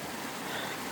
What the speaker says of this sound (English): here's our first stream crossing